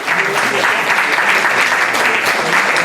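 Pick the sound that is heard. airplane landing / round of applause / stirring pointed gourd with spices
round of applause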